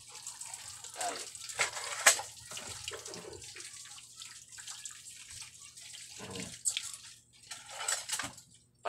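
Faucet water splashing intermittently over plates, glasses, spoons and forks being washed in a sink, with irregular gushes, clinks and drips, fairly close and moderate in level.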